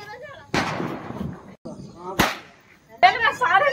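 Diwali firecrackers bursting outside a home, two sharp loud bangs about two seconds apart with crackling decay, while people talk and shout nearby.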